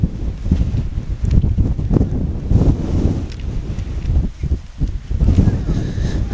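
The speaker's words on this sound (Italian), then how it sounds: "adesso addirittura talmente forte il vento che si alza il terreno" Strong wind gusts across an outdoor amateur football pitch during a Suio Minturno versus Mistral Gaeta match, blowing hard enough to lift the ground. The wind makes a continuous loud, rumbling roar on the microphone that swells and dips throughout.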